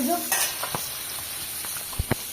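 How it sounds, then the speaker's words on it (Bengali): Fish fries in hot oil in a pan, hissing steadily at close range while a utensil scrapes and knocks a few times, with a couple of sharper clacks near the end and no talking. "আর এই যে মাছটা ভেজে নিচ্ছি, ভেজে তুলে রাখবো।"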